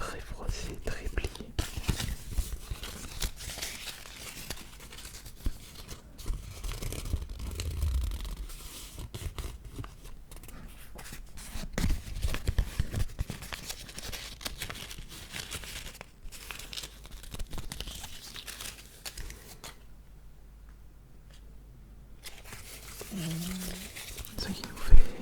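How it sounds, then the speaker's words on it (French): A heavily crumpled, folded 5-euro banknote is handled up close, giving soft crinkling, rustling and papery scrapes over a quiet background, with whispered speech throughout. "Voici un autre billet de 5, très froissé, très plié."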